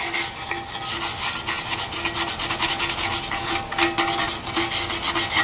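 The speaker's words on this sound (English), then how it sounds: "we have our wire brush, and we're just going to scrub a bit." A wire brush scrubs rust off a heavy cast iron yard limit sign in rapid, rhythmic, scratchy back-and-forth strokes, loud and close with no talking.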